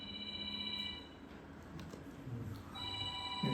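Mobile phone ringing during a Sunday church service, a faint electronic ringtone that plays briefly, pauses, then starts again in a large room with quiet background murmur.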